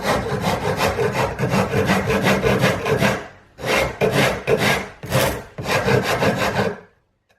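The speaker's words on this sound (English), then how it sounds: "I just use a basic rasp in the beginning, shape up to the line." Basic wood rasp shaping the wooden tail fin of a model P-40 Warhawk plane: loud, close rhythmic rasping strokes, a steady run of scraping followed by several separate strokes after a short pause, with no talking.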